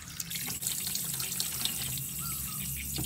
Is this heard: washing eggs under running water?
yes